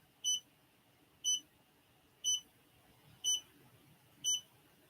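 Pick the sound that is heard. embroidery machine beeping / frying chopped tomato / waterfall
embroidery machine beeping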